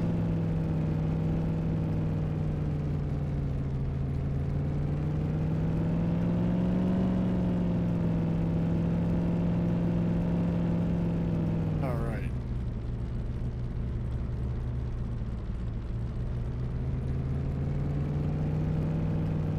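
A brand new car driving in the Farming Simulator 17 video game on the Midtown USA map, its engine droning steadily with rising and falling revs and a brief gear-shift dip midway, with a voice speaking briefly over it.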